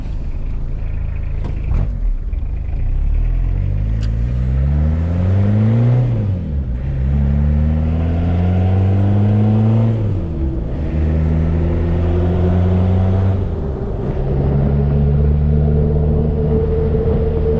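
Suzuki Vitara engine revving through gear changes, rising and falling pitch with repeated upshifts after a clutch replacement, loud and close throughout.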